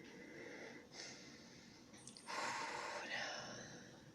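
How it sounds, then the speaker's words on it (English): A slow, deep breath drawn in at close range, a faint airy inhale that swells and holds over quiet room tone, with soft breathy noises before it. "Breathe in deeply."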